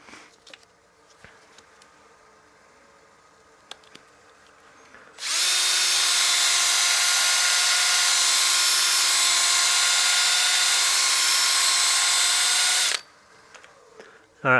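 A wood platter is sanded with a fresh 400-grit disc on a power sander, which whirs loudly and steadily for about eight seconds after quiet shop sounds, then stops.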